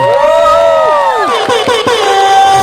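Guests at a wedding reception cheering and whooping loudly, with high excited voices rising in sustained shouts and brief sharp calls, the crowd noise dense and close throughout.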